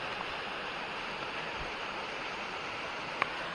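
Continuous broadband rush of a waterfall beside a backpacking campsite at Spruce Knob, West Virginia, a steady even hiss with no breaks and one faint click near the end.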